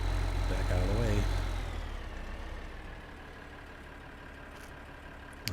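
Tractor engine idling in the Farming Simulator 15 video game, a steady low rumble that is louder at first and then settles to a quieter constant hum, with no talking.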